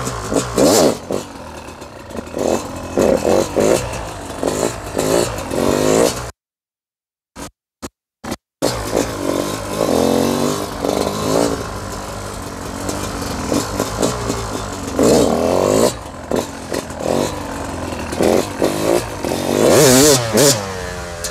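Motorcycle lapping a motocross track, engine revving and dropping as it accelerates and slows, loud and close for most of the run, with a brief quiet gap and a few sharp bursts near the middle.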